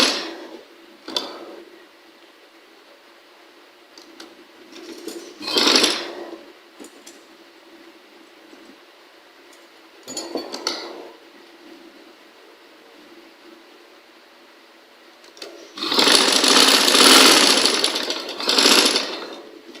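A sewing machine joins pieces of a child's dress in separate bursts of rapid stitching, short runs near the start and middle and a longer run toward the end, with quiet stretches between.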